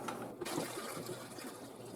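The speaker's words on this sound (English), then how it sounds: "all I'm going to be doing is slowly pouring a bucket of water to top his water" A bucket of water poured slowly into a turtle tank gives a soft, continuous trickle and splash, fairly faint and close, carrying on steadily throughout.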